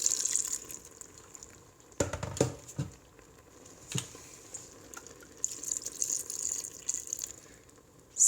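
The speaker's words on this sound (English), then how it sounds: "So here I'm gonna just eyeball the amount of water that needs to go in here." Water is poured into an Instant Pot over vegetables for a spiced lettuce soup, coming in intermittent splashing gushes and trickles with quiet gaps between pours, close by.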